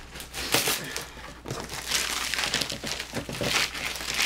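Plastic wrapping around a new sewing machine crinkles and rustles close by during unboxing, in irregular crunchy bursts.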